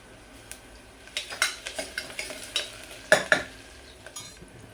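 Crushed garlic and cumin go into a pan with onions for a Marathi tondli rice dish: a faint background sizzle broken by irregular scraping clinks of a metal spoon stirring against the pan.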